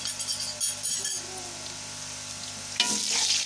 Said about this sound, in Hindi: अब हम इसमें अदरक लहसुन डालेंगे